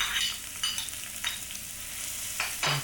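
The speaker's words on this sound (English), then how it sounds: "fry the onion for a minute or two" Onion frying in a pan for black pepper sauce, with a steady soft sizzle and a few louder scraping stir strokes, fairly close and with no one talking.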